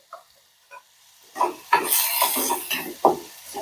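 Sliced onions with fine salt sautéing in a pan, a spatula scraping and stirring in irregular strokes with soft sizzling, close and moderately loud, no talk.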